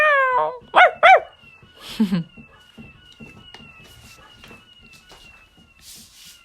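Quick meow-like cries give way to a couple of short, sharp dog barks, then soft scattered noises in a quiet room.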